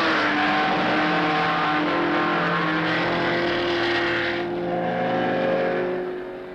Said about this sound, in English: The cars start 5 at a time at 3-second intervals.